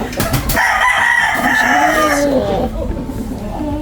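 A yellow-legged hatch gamefowl rooster crows loudly and close by, one long drawn-out call that falls away near the end, with faint background noise around it.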